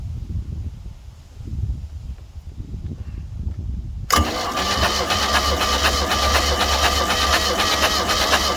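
Starter cranking a four-cylinder engine in a Glastron Carlson CVX-16 boat during a compression test, on a somewhat weak battery: a steady, loud mechanical whirring that starts abruptly partway through after quieter rumbling and continues without a break.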